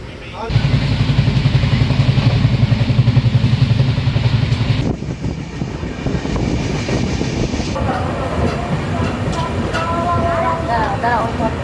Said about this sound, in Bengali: এই মুহূর্তে আমাদের ট্রেন এসে পৌঁছালো অম্বিকা কালনা